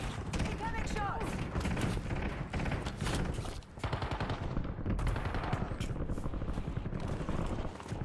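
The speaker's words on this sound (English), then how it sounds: "Incoming shots" Warzone combat gunfire rattles nonstop in heavy, close automatic bursts mixed with distant shots and booms, while game voice callouts speak over the chaos.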